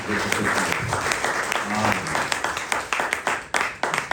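A church congregation claps and cheers in praise of the Lord, a dense, loud wash of applause with mixed voices that breaks into sharper, scattered claps toward the end.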